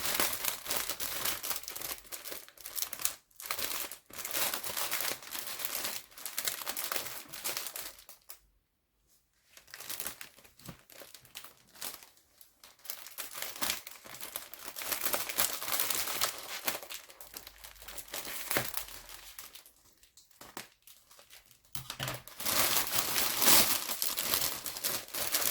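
Paper crinkles and tears while a taped gift package is unwrapped, a close, busy rustling that runs in bursts with a couple of brief quiet pauses, loud and continuous near the end.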